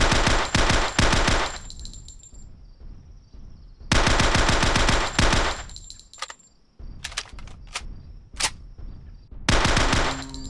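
Bursts of rapid automatic gunfire from the video game Jurassic Park Revolution, long dense volleys broken by short pauses and a few single shots, loud and close with no talking.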